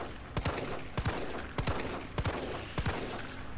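Pistol shots ring out in Resident Evil 3 video game play: four sharp reports at roughly even intervals of about six-tenths of a second, loud and close, over a steady game background.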